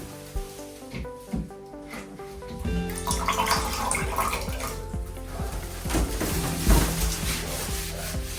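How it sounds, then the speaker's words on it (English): A wet sponge rubs and wipes excess grout off the tile along a bathtub joint, a steady close scrubbing texture with tonal background music underneath throughout. "I'm using a wet sponge to clean the excess grout off the tile"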